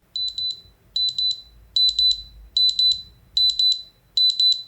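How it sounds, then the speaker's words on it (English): Soundcore Liberty Buds earbuds emit a loud Find My alert: repeated bursts of four rapid high-pitched beeps in a steady, evenly spaced rhythm, heard up close with no other sound. "You can play a sound from the earbuds if you lose them somewhere in your apartment or between the couch cushions, and trust me, it's loud"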